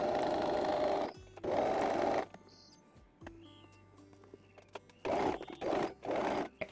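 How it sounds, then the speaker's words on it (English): A sewing machine stitches a straight line down linen pants in two loud bursts, a pause with faint handling, then two more short runs of rapid mechanical whirring. "So now I've got that line sewn on here"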